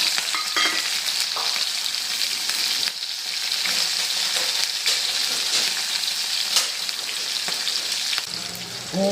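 Cumin, garlic and green chillies sputter in hot oil for an okra dish, a loud continuous sizzle with crackling pops and occasional stirring scrapes throughout.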